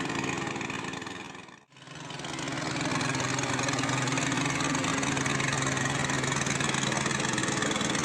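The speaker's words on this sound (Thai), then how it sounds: "เรือแล่นในแม่น้ำสลรวิน" Boat engine running steadily on the Salween River near Ban Mae Sam Laep, a close, continuous mid-pitched drone that cuts out briefly near the start and then returns without any talk.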